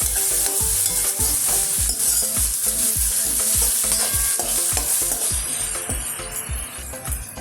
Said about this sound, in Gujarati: મરચાં, ટમેટાં બધું વેજીટેબલ ઉમેરી અને આપણે બરાબર સાંતળી દઈશું